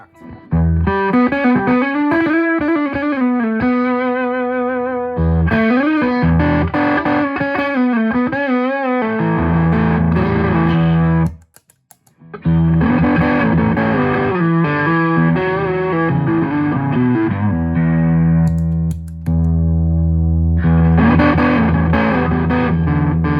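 Electric guitar on a humbucker pickup driven through a Mason distortion pedal, played with heavy, thick distortion in sustained chords and riffs, loud and close, with one brief gap near the middle.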